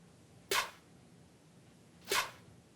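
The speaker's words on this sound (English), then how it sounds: "And I did add a couple layers to the snare, I think just to make it sound a little more trappy" A layered, trap-style snare drum sample hits twice, about a second and a half apart: each hit is a short, bright, crisp crack standing alone over a faint low hum.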